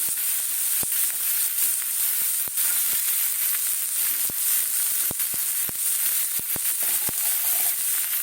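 Vegetables sizzle and fry steadily in a hot pan as green peas are tipped in for a vegetable soup, a close, continuous hiss broken by sharp crackles and spits, with no talking.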